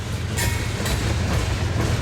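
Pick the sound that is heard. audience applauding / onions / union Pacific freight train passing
union Pacific freight train passing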